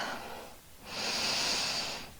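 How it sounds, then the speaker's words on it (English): Slow, deep breathing during a meditation practice, a soft airy inhale swelling into a long breathy exhale, close and alone in a quiet room. "You can start deepening your breath, maybe allowing tiny wiggles to move through your body."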